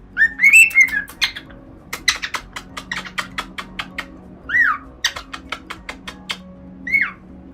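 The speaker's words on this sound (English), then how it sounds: "Yeah, so they're very proud birds" Pet birds whistle and chirp up close, with a rising whistled call at the start followed by a steady run of sharp, rhythmic chirps and a few more short whistles near the end, over a low background hum.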